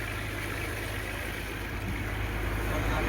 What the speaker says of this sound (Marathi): काय बघा इकडून एक बोट आलंय, स्पीड कमी आहे तिची